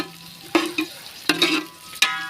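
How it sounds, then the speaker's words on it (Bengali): Onions frying in a pan for a Pakistani-style eggplant dish give a faint background sizzle broken by four sharp spatula knocks and scrapes against the pan, close and uneven. "এখন পেঁয়াজটাকে আমরা ভেজে নিচ্ছি সুন্দর করে"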